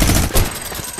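Rapid automatic gunfire from a weapon in the Fortnite video game, a dense, loud burst of shots running the full second with no talking.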